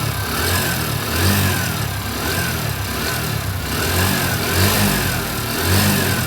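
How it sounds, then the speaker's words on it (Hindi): A TVS Sport BS6 motorcycle engine with a worn rocker pin runs steadily up close, a continuous mechanical drone with faint rhythmic ticking and a slight swell in revs partway through. "इसकी राकर पिन आवाज़ कर रही थी।"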